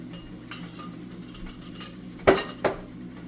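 A spoon stirs honey garlic sauce in a pan, giving soft scrapes and a few faint clinks, then two louder metallic knocks close together near the end, with no talk.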